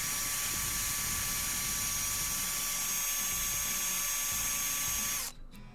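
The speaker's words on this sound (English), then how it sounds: "we'll just drill those out" Small 1.7 mm drill bit boring out posts on a Hot Wheels Ford Aerostar die-cast toy, a steady, close high-pitched whine that runs unbroken for about five seconds and then cuts off abruptly.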